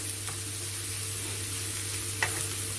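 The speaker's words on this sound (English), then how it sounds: "So now I'm gonna add my mushrooms. And cook them for about 5 minutes" Mushrooms frying in a pan for a chicken casserole, a steady soft sizzle with occasional light scrapes of stirring, close and alone with no talk.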